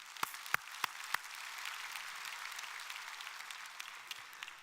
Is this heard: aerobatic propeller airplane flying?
no